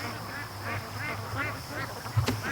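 Free-range ducks quack at a lake, a steady run of nasal calls from a group close by, repeating every fraction of a second over a constant hiss, with a sharper honk near the end.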